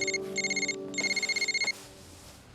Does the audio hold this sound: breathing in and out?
no